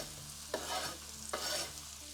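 Vegetables starting to fry in a pan during a timed cooking contest: a steady, close sizzle broken by two brisk scraping stirs about a second apart, with no voices.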